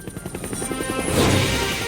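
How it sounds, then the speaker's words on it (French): Toy helicopter arriving to drop off a golden dollhouse, its rotor chop building from a faint pulsing whir into a louder, nearer rush, with no talk over it. "Qu'est-ce qui arrive en hélicoptère?"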